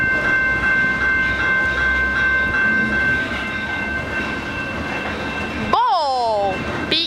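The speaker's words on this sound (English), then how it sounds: "I always stand on this end so we know there's a train coming." Train passing at Pitt Meadows with a continuous close rumble and steady squealing wheel tones, then a loud horn blast near the end.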